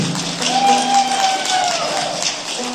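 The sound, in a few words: audience applause at a music park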